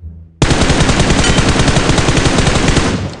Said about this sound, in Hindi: अब साइंस सेंटर से जो है गोली चलने का आवाज़ आता है